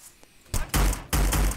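Gunfire from a wheelchair-bound guard in the video game Hitman: two loud, close bursts of shots, each lasting about a third of a second, separated by a short gap.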